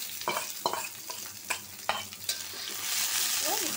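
Sliced onion and green chilies fry in hot oil in a kadai, a soft continuous sizzle broken by scraping stirring strokes, growing louder toward the end, no speech.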